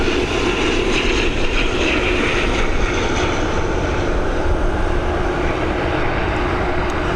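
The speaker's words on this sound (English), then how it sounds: "we've got this ATR 72-600 series on its final stages of descent into Dublin" An ATR 72-600 turboprop on final descent into Dublin Airport gives a loud, close, continuous engine drone with a steady propeller hum and a constant tone, no voices present.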